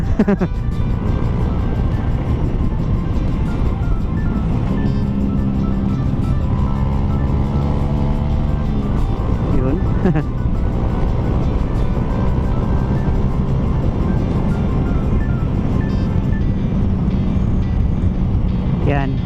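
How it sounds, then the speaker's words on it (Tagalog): A motorcycle exhaust rumbles steadily throughout on a ride, with low engine drone and shifting pitch, under wind noise and occasional voices. "Maganda pakinggan yung tambutso natin na umuungol-ungol."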